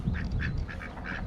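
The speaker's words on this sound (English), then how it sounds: "Here's the duck." A duck at a park pond gives a run of about five quick nasal quacks, close and clear, over low background rumble.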